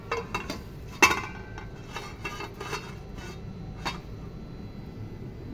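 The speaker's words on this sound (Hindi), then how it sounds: "अब इसको मैं ढक्कन लगाऊंगी।" A lid goes onto a cooking pot of frozen mutton with one sharp metallic clink, followed by a few lighter clatters and taps, all quiet and close.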